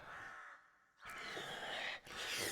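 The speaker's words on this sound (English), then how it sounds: "Was that a bird?" A crow-like caw plays as a sound effect during a tabletop Dungeons & Dragons session, two short harsh calls separated by a brief gap, standing alone with no talk.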